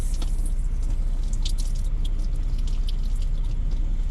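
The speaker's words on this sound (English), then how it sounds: "let me turn my water on to my kitchen sink" A close, steady hiss of water running from a kitchen sink tap in a semi truck, with small splashes and drips, continuous and alone.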